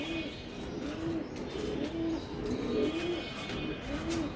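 Racing pigeons coo in low, repeated rolling phrases close by, several overlapping calls in a steady rhythm while the birds are handled, with faint background noise.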